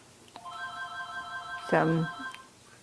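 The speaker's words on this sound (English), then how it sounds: "Just let it keep ringing." An old telephone bell rings in a sustained tone near the start, and a voice cuts in over it partway through.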